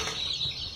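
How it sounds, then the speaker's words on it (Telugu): One-month-old Aseel chicken chicks, a farm-raised native breed, give a busy close-up burst of high cheeping with some rustling movement, steady and unbroken over the short moment. "ఈ 1 month కోడి పిల్లలు,"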